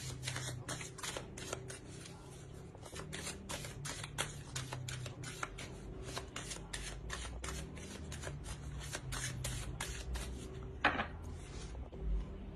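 An oracle card deck being shuffled, long continuous papery riffling and flicking with dense rapid card strikes, close and steady, with a sharper snap near the end and no speech.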